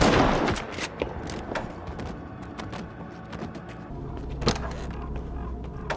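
Gunfire in a S.T.A.L.K.E.R. 2 cutscene: a loud burst of shots at the start, then scattered sharp reports through a mechanical background, with one louder crack near the end.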